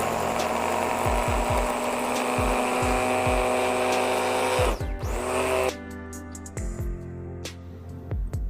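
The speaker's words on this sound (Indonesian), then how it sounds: "Kemudian di blender sampai halus ya." A blender motor whirs with a steady high whine, its pitch shifting partway through as the blades grind, with a few knocks against the jar.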